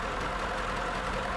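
A 1930 Duesenberg's dual overhead cam engine with a front cooling fan idling: a steady, even, close mechanical hum with a fine, quick rhythmic texture and no talk.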